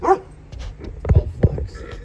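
A dog gives short, sharp barks at a concrete pour job site, a few quick yelps close by, while someone talks over them.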